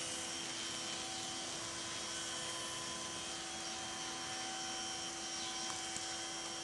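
A motorized diamond wheel grinds a horse's teeth during dental equilibration, making a continuous, even whirring drone with a steady high whine and no pauses or talking.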